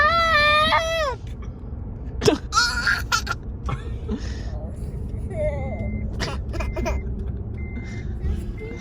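A young girl fakes a string of short, forced coughs to pester her brother, sharp close bursts scattered among children's voices and whiny protests in a busy home.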